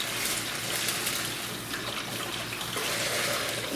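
Beef broth pours steadily into a crock pot, a continuous close watery splashing and trickling that runs without a break for a few seconds, with no talking.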